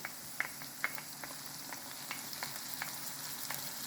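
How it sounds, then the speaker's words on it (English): Spicy pepper dropped into a hot frying pan for chili beans, a steady close sizzle with scattered sharp crackles and pops, no voices. "Now I'm adding spicy pepper,"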